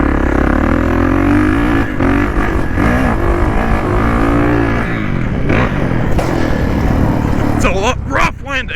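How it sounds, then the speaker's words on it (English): An old Suzuki dirt bike rides a motocross track and takes a big jump: loud engine revving and clatter close by, rising and falling, with a voice briefly near the end. "Oh, it's an old Suzuki. That thing's sick. It's a big jump, dude."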